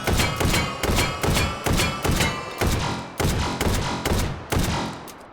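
A Saiga-12 12-gauge semi- and fully-automatic shotgun with an extended magazine fires about eleven loud, booming shots in a fast, even rhythm, each blast trailing off briefly before the next.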